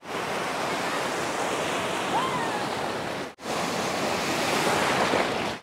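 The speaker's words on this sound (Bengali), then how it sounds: "বকখালিতে এখন বিরাট বড় বড় ঢেউ আসতে পারে" Big sea waves at Bakkhali beach roll in as a continuous loud surf roar mixed with wind buffeting, broken once by a brief cut partway through before the wash resumes.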